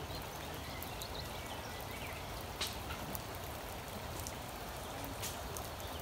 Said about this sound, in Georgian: წვიმიანი ამინდია